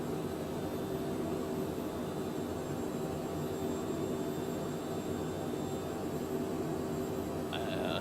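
Simulated jet engine of a Cockspur PH100 Phenom in Microsoft Flight Simulator at high altitude, a steady broadband roar with a faint whine, constant and unbroken throughout with no talking.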